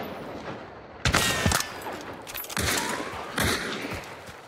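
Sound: gunfire from a shooter video game

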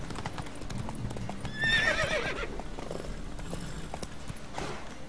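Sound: horse galloping and neighing in video game The Witcher 3

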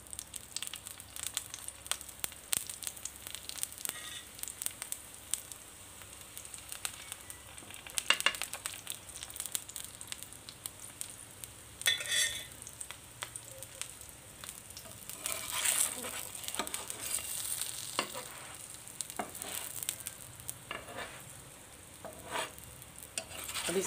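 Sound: keema paratha frying in ghee on low heat

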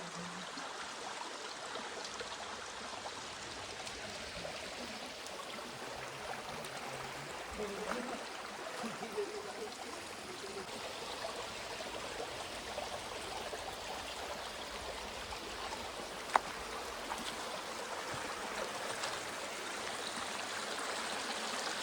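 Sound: Najor Mata waterfall flowing water

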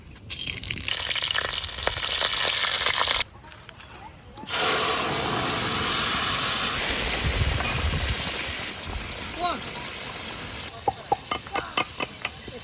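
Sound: cumin, dried chili and bay leaf frying in oil

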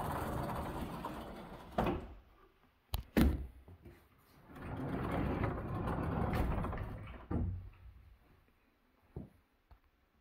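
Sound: doors being shut

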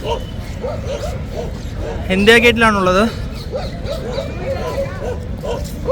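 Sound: dogs barking at India Gate

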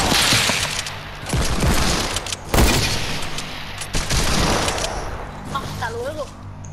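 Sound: gunfire in a shooter video game

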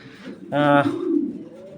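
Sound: pigeons cooing, Indian red Bombay pigeons for sale

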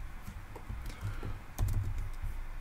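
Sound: typing a product title on a computer keyboard

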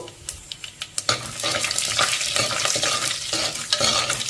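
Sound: tempering spices (urad dal, chana dal, coriander, cumin) frying

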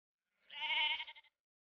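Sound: sheep and lambs bleating

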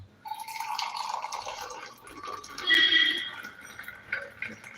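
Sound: tea being poured into chickpea payasam

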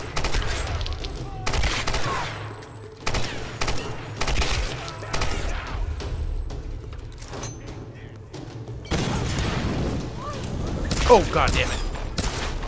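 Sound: gunfire in the Tomb Raider video game

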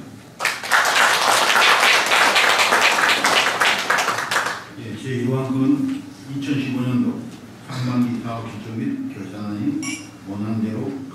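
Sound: applause at board meeting

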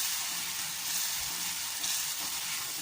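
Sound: gravy boiling and thickening in a pan

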